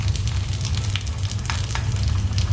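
Fish wrapped in a parcel and laid into a pan with a little coconut oil over a medium flame: a steady, close frying sizzle with crackles and pops throughout.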